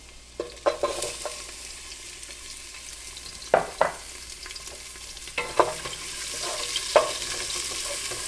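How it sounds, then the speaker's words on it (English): Garlic cloves and half a medium onion sautéing in a pot for a creamy fall vegetable soup: a soft continuous sizzle marked by several sharp spoon taps and stirring scrapes, no voices. "We're going to saute this with half of a medium onion."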